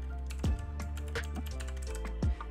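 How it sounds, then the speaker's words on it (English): Typing on a computer keyboard while entering a search in Microsoft Edge on Windows, a few scattered keystrokes and clicks over a steady low hum, fairly close and moderately quiet. "Now here we will be typing"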